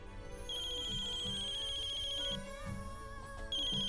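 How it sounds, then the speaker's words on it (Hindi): A melodic phone ringtone plays in repeating bursts, loud and close, with a high electronic tone over a steady tune and no talking, in a Hindi TV serial. "कल्पी का फोन है। बात करो।"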